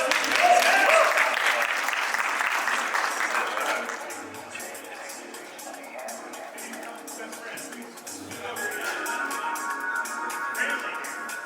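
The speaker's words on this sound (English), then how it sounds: "Round of applause." A conference audience gives a round of applause, loud and dense at first, then thinning to scattered clapping before swelling again briefly, with no voices over it.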